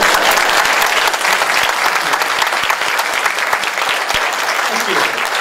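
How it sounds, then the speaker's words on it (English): Loud, sustained audience applause filling a keynote talk hall, dense continuous clapping from many hands with a few sharp individual claps, steady throughout with no speech on top. "I had to ask for that applause."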